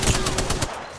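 A rapid burst of automatic gunfire crackles in an Apex Legends match, several quick evenly spaced shots in under a second, close and sharp before cutting off.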